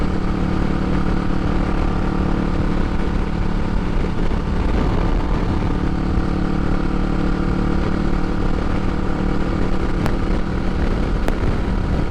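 Motorcycle on a long solo road trip, a loud continuous engine drone with steady rumble and wind noise from the rider's perspective, no talk.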